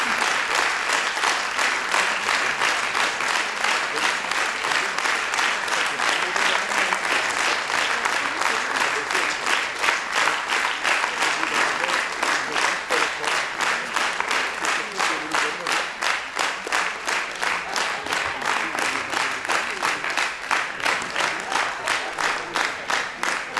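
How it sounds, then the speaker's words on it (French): A theatre audience applauds the venue's team at a season presentation, loud sustained clapping that settles into a steady rhythmic beat and keeps on at full strength throughout. "Merci de les applaudir bien fort."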